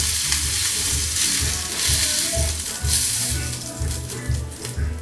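Food sears in a hot pan with a loud, steady sizzle and crackle close by, plus a rhythmic low scraping or stirring throughout and no talking.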